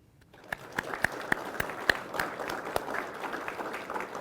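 Applause at a Northern Nevada law enforcement academy graduation in June 2020 starts as scattered distinct claps and thickens into a steadier, moderately faint round of clapping from a modest crowd.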